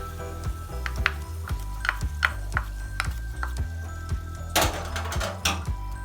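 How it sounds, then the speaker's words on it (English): A spoon clinks and scrapes against a pan while ingredients are mixed into gongura pachadi, in a series of sharp taps over a faint background hum, ending in a louder burst of sizzling scrape. "Now mix these ingredients"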